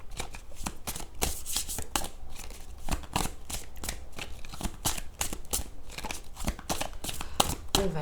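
Tarot cards riffled and shuffled in quick, crisp bursts of papery flicks and slaps, close and steady throughout with no talking.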